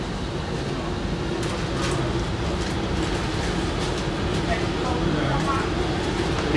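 Copenhagen Metro driverless train running along its tracks, a loud, steady rumble and rolling roar that fills the whole stretch without a break or any talking.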